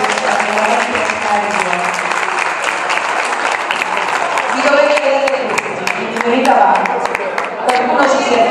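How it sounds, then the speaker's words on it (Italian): Audience applause at the closing event of a school project in Melito di Porto Salvo, sustained dense clapping for the full stretch with a voice briefly speaking over it. "vi prego di fare un applauso a questi"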